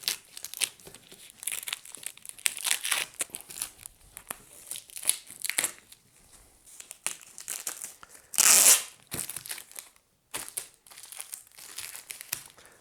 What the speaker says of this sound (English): So what I'm going to do now is actually release this from the tape.